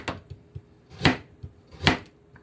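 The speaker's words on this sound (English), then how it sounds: "We're just going to very loosely chop up a carrot." A knife chops a carrot loosely on a board: a few sharp, close knocks with softer taps between them, irregular and unhurried, with no talk.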